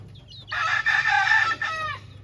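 A rooster crows loudly and close by, one long full cock-a-doodle-doo among frizzle chickens that cluck softly in the background.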